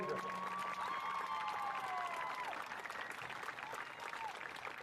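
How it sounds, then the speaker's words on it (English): Applause and light cheering from a crowd at a state high school baseball tournament award ceremony, steady clapping that holds strong then eases slightly, with a whistle-like tone and murmured voices in the mix. "a big round of applause for an outstanding season."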